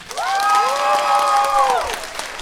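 A comedy crowd-work show audience responds with cheering and applause, drawn-out whooping voices riding over a bed of clapping for about two seconds before it drops away.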